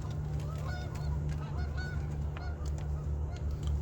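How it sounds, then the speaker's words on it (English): Geese honk repeatedly outdoors beside a truck campsite, with scattered calls over a steady low hum and no talking. "These geese are still hanging out there."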